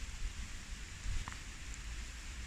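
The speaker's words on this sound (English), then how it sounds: "it started to tip down with rain" Soft, steady rain hiss in the background, faint and continuous, with a brief slightly louder patter in the middle.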